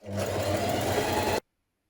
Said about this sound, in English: we're going to understitch around that neckline a few millimetres away from the seam